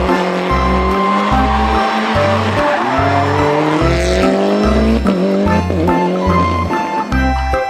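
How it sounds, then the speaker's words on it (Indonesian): Toy race car played back loud and steady, with a revving engine whine and tire squeals over a regular pulsing beat of music throughout. "Yang ini ada mobil balap."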